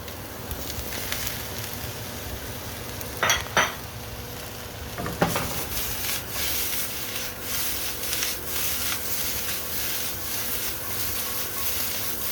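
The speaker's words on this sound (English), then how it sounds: "I'm actually, at this point, just going to mix it into my onions. It will definitely saute more." Chicken, onions and peppers sauté in a pan for chicken cacciatore, a steady close sizzle running throughout with a few sharp clanks and scrapes as the pan contents are stirred and tossed.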